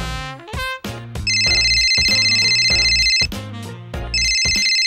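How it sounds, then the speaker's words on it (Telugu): A phone ringtone plays loudly over a speakerphone, a bright repeating electronic melody in bursts with brief gaps between phrases, and no talking over it. "సరే, నీ ఫ్రెండ్ ఇక్ష్వక్ ఫోన్ చేయి"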